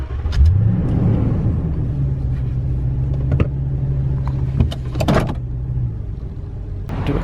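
A 2019 Toyota Tundra SR5 CrewMax pickup pulls away, its engine rumbling and revving up close, with a few sharp clicks and knocks and a whirring sound partway through.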